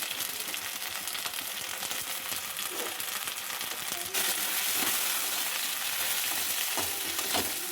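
Chopped tomato frying with salt, turmeric, chili and cumin powder in a pan for a ban fish curry, a continuous sizzle that gets louder midway, with occasional stirring clinks.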